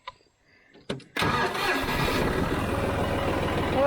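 A John Deere tractor on a farm cranks with a few short attempts, then catches and settles into a loud, steady running engine rumble close by.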